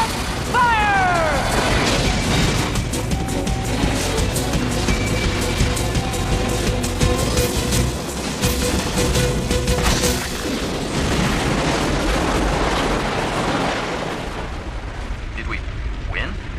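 A massive anime explosion of a giant Punisher cannon rumbles and booms on and on, a dense roar of blasts and debris, with voices speaking over the din.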